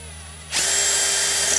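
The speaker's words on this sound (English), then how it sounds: "So I'm gonna start with a wood bit and get through this threshold" A power drill with a wood bit starts up abruptly and whines loudly and steadily as it bores through an exterior door threshold.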